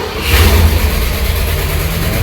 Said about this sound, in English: So right now, of course, I expect the car to start without a problem.